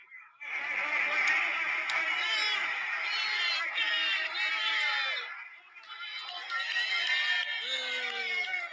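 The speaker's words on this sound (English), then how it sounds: "They're all just cheering, they're like steamed up for the call, and they just play it right off the radio." Crowd cheering and shouting, played back off a radio broadcast clip; a dense, sustained roar of many voices with a short dip before it surges again.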